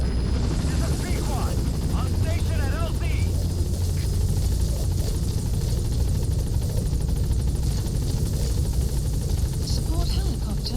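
A support helicopter arrives in the video game Metal Gear Solid V, its loud, dense rotor roar filling the whole stretch, with other game sounds mixed in.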